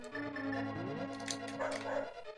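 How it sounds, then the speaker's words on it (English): A dog barks and whines over steady tonal music from the Zelda: A Link to the Past randomizer game, the yips sitting faintly in the background for a couple of seconds. "Oh, dog's barking."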